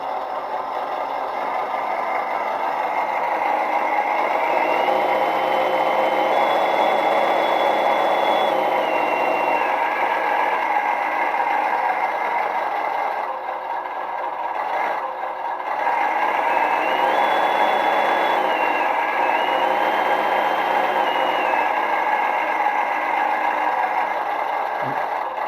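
A 1/10 scale RC recovery truck's electric motor whines steadily and loudly, revving up and down, with a high repeating tone that drops out briefly midway and then returns while it runs in reverse.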